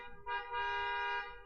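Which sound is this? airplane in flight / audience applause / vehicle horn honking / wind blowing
vehicle horn honking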